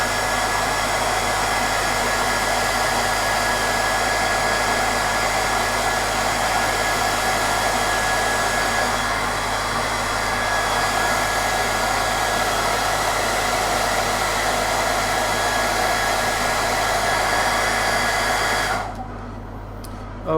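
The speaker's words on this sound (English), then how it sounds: "I'm just going to hit it with a hairdryer again." A handheld hairdryer blows steadily for about twenty seconds while drying a painted miniature, a constant loud whir that cuts off abruptly near the end.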